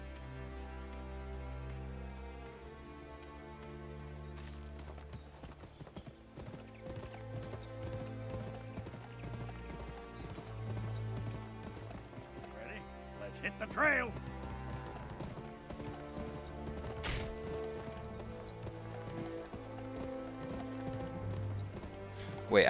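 Rhythmic clip-clop of horse hooves galloping runs steadily under game music in the video game Gun, with a voice speaking over it.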